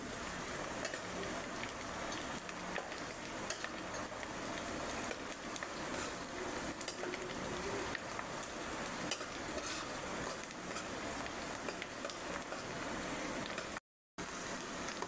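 Sliced onions and chopped green chillies fry in a pan, a steady, even sizzle with faint stirring underneath, fairly quiet and unbroken apart from a momentary cut near the end, with nobody speaking.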